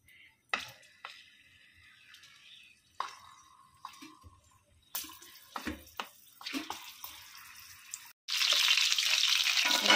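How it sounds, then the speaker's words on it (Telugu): Stuffed capsicums placed into hot oil in a pan: scattered light clicks and knocks from handling, then a loud, dense sizzle bursts in near the end and holds steady, close up, with no talking. "ఆయిల్ వేడైన తర్వాత స్టఫింగ్ చేసుకున్న క్యాప్సికం ఇందులో పెట్టేసుకుందాం"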